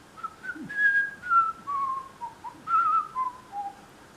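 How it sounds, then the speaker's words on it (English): A person whistles the melody of Wildwood Flower, a clear solo tune of short rising and falling phrases, close and alone with no talking. "I was whistling the tune"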